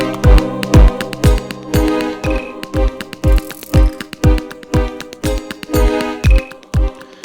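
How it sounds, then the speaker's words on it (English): Electronic music on the Samplr iPad app with a thumping kick drum on a steady beat and a gritty, distorted, buzzing tone from a distortion effect over the whole mix. "Let's turn it down so we can hear what the distortion will do."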